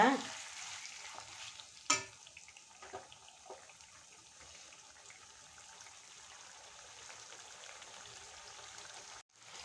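Chicken pieces frying for an easy home-style chicken fry, a steady soft sizzle in the pan with a couple of sharp utensil clinks near the start, continuous and moderately quiet.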